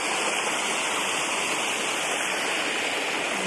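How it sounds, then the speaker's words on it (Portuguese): A small stream flows beside a roadside field over rock slabs in rural Bahia, a steady, close rushing and splashing of water that runs without pause for the whole stretch. "Olha aí, o riacho"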